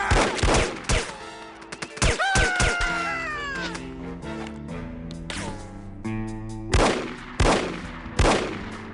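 Gunfire bursts in the 1970s spy shooter No One Lives Forever, several sharp loud shots near the start and end, over a bright game music score and a cartoonish voice sound in between.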